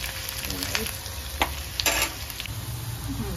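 Onion sautés in oil with whole garam masala in a pan, a steady close sizzle with a few stirring scrapes and clicks, moderately quiet.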